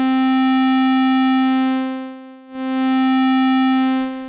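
Synth tone with hard distortion in FL Studio Mobile: a loud, buzzing, harmonically rich sustained note that briefly dips and cuts out midway, then returns at full strength.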